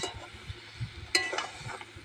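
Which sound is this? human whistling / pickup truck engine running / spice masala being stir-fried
spice masala being stir-fried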